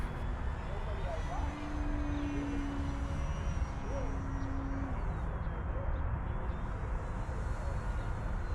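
A Durafly Tundra V3 RC STOL plane drones steadily overhead, its electric motor giving a continuous whine that rises and falls as it passes, set against constant outdoor wind and background noise.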